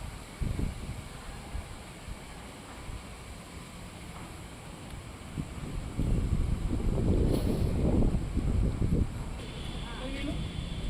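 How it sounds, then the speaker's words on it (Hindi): Steady roaring wind buffets the microphone, growing stronger partway through, with low rumbling gusts and no clear talking. "कितनी हवा चल रही है।"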